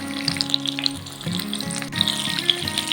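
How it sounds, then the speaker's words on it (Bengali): Pointed gourd frying in mustard oil in a kadai over low to medium flame, a close, steady sizzle broken by several spatula stirs and light crackles. "পটলগুলো আমি লো টু মিডিয়াম ফ্লেমে ভেজে নেব।"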